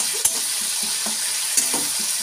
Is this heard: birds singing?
no